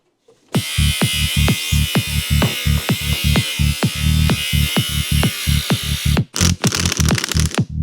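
Power tool cutting off excess bolt thread while dropping a car's K frame, a loud close buzzing whine with rhythmic pulsing, a brief stop, then a fast rattling restart.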